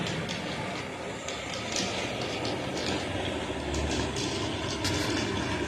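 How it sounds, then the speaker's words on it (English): An HO scale model train runs on a layout, a continuous rumbling clatter with faint rhythmic clicking, close and steady for several seconds with no talk over it. "Swing round a bit now, we have the train coming."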